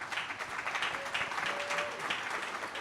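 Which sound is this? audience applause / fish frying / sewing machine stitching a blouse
audience applause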